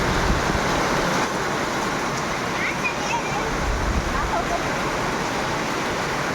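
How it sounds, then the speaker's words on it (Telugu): A heavy downpour hammers down without pause at a potter's clay workshop, a loud, dense, unbroken roar of rain close by. "వర్షం ఫుల్ పడుతుంది."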